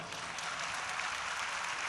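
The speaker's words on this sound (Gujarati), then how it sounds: "એકવાર એને તાળીઓથી વધાવો." A large crowd at a Ram Katha dayro gathering in Ghatkopar, Mumbai, gives sustained applause, a dense, even wash of clapping that sounds somewhat distant and steady throughout.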